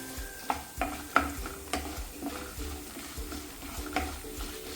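Urad dal fries in a pan on a low flame, giving a soft sizzle with repeated sharp clicks and taps, likely from stirring and popping grains, close and fairly quiet.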